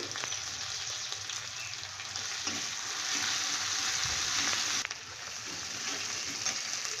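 Ginger-garlic paste, green chilli paste and turmeric frying in a pan, a steady close sizzle that runs without a break.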